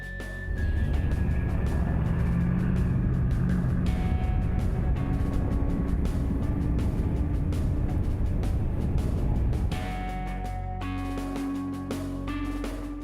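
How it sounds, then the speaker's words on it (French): A van drifts while towing a trailer, its engine droning and revving loudly and continuously with shifting tones, then easing off toward the end, no voices heard. "pourquoi pas essayer de drifter une remorque derrière une camionnette?"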